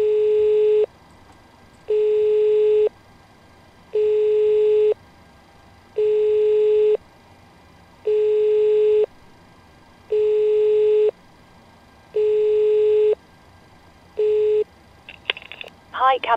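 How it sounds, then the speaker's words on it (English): The cockpit intercom of a PMDG 737 flight simulator rings in evenly spaced electronic tone bursts, about eight in a row roughly two seconds apart, clear and steady, ending with a short burst of clicks. "And the intercom's ringing, and we just have to wait for her to answer again."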